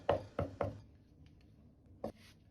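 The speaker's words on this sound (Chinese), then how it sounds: "大蒜和生薑適量，拍破後剁碎就可以" A knife chops smashed garlic and ginger on a cutting board, three quick close thuds followed after a pause by one more, crisp and isolated.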